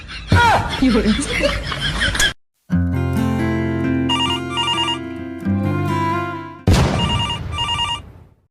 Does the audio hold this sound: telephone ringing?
yes